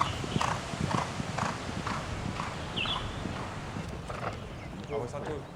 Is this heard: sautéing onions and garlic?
no